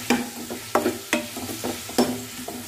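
Chili and tomato mixture being stirred in a pan for ginger kurma, several distinct scraping strokes over a low sizzle, close and fairly loud, with no talking.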